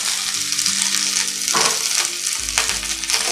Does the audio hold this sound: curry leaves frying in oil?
yes